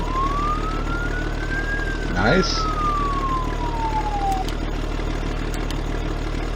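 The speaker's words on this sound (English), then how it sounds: "It's got a working siren." A single ambulance siren wail in the video game Farming Simulator 15 sweeps up and then slowly falls over a steady idling engine hum, with a brief spoken word partway through.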